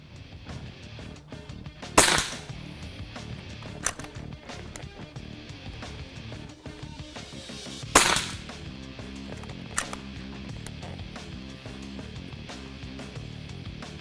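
An HM 1000X .357 air rifle fires round balls, giving two sharp, loud cracks several seconds apart, each followed by a fainter impact, over a low outdoor background with no talking.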